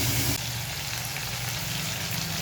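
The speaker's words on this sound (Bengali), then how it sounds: "এবারে মাছগুলোকে ভেজে নেব। মাছগুলোকে আমি খুব বেশি ভাজবো না" Prawns fry lightly in a pan for a home-style prawn malai curry, giving a steady, faint crackling sizzle throughout.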